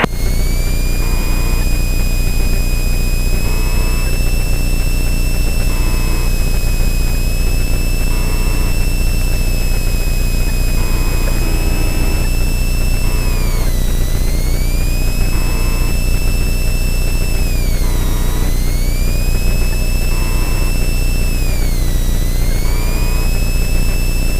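Jet aircraft engine running up on the ground before takeoff, a loud steady roar with high whining tones that dip and rise several times as power shifts, continuous throughout with no talk.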